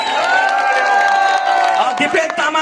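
Crowd at a Nepali Congress party rally in Bhattar Bazar, Nuwakot, greeting new members joining from the Communist party, with loud continuous cheering and shouting that breaks into clapping near the end.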